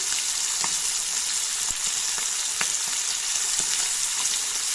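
Paneer and potatoes frying in a pan, giving a dense, constant sizzle with a few light clicks and taps of a utensil scattered through it.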